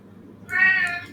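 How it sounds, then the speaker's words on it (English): A house cat meows once, wanting to go out, in a short, clear, rising call heard close up indoors and alone after a brief quiet moment. "Now my cat wants to go out."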